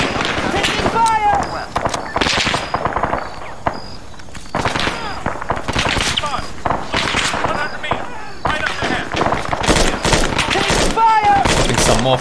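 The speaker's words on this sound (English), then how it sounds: "Putting some more fire down towards the enemies." Dense, loud gunfire in the military shooter Arma 3, with continuous automatic bursts and crackling shots filling the whole stretch among ruins, faint voices mixed under the din.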